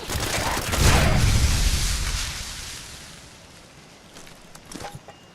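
Turret gunfire in the video game Fallout 76, a loud rumbling burst of rapid shots that fades into a lower, quieter rattle with a few scattered later pops.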